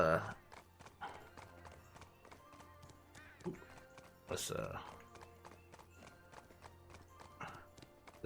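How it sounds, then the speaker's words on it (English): Horse hooves clip-clop in Black Desert Online, steady repeated hoof taps at a moderate pace in the beginner city of Velia, with a voice talking over them and a brief game cheer. "get our horse to the stable"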